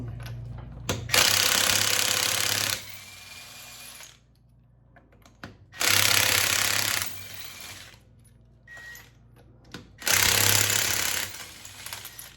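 A Harbor Freight impact wrench loosens a shock absorber nut on a 2012 Ram 1500 4x4 during a Bilstein B8 5100 shock install, hammering in three loud, rattling bursts of one to two seconds each, separated by quiet pauses.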